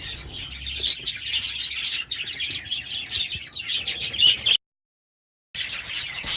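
Four large budgie chicks in a nest chirp near and loud, a dense, continuous high twittering that stops for a moment near the end and then resumes.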